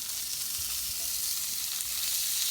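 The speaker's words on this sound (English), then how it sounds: "I take my asparagus and I place it in the pan" Asparagus spears laid evenly in a hot frying pan give off a steady, bright, hissing sizzle that stays constant and close throughout, with no voices.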